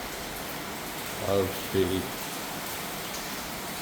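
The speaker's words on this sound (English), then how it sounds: "What you're hearing is the rain" Steady rain falls at night outside a condo, heard from a hallway as a constant, even hiss that goes on throughout, with a brief spoken murmur in the middle.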